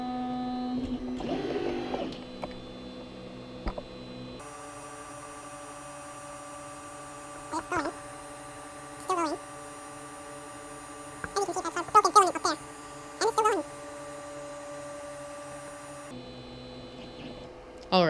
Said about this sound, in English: So here's how you auto-home your extruder.